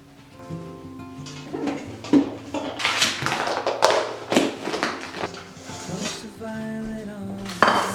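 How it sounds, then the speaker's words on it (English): Food being chopped on a board and dropped into a large bowl in a home kitchen, with repeated knife taps and clinks of dishes and utensils at close range over steady background music. "So I'm just gonna cut this all up and put it in this big huge bowl"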